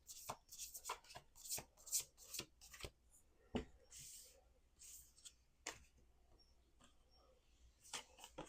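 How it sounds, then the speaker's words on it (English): Playing cards being shuffled for a collective reading, heard as soft, quick riffles and taps in irregular bursts, close and quiet, with brief pauses between them. "We're going to do one more shuffle."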